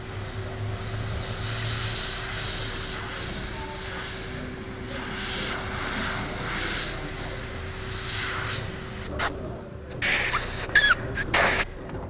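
Airbrush hissing steadily as it sprays paint onto a black T-shirt, a continuous airy spray with a few short bursts and pauses near the end.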